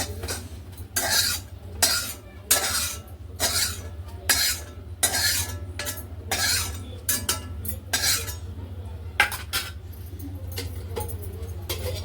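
Metal spoon scraping and clinking against a pan as roasted coconut is taken out, a quick series of close, sharp scrapes repeating steadily over a faint low hum.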